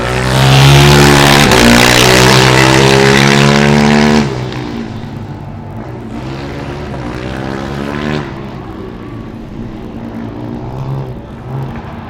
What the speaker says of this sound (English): now another fast car is coming back out